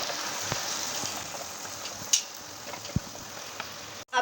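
Ground garlic-tomato paste hitting hot oil with frying onions for a crab roast, a steady close sizzle with scattered pops and a sharp clank just before the end.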